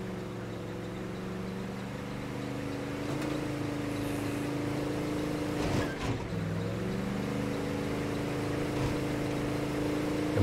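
A car engine in State of Decay 2 runs roughly, with a steady droning hum that wavers and dips in pitch partway through, continuous and moderately loud with no voices.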